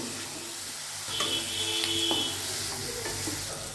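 Chicken mince ghugni stirred in a pan, with a steady low sizzle and a few soft spoon scrapes and taps against the pan, close and moderately quiet, no voices.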